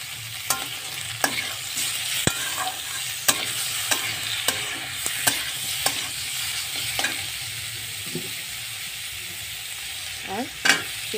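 Chicken and capsicum stir-frying in a pan, a constant sizzle with frequent sharp clicks and scrapes from the spatula against the pan, close and fairly loud.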